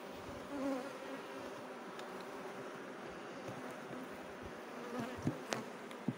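Honeybees at a mother hive during a beginner beekeeper's hive split, a dense steady buzzing swarm up close, with a few sharp clicks and knocks near the end.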